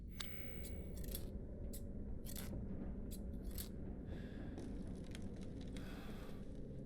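Scissors being picked up and used in the video game Resident Evil Village, heard as several short bright snips and clicks over a steady low ambient rumble.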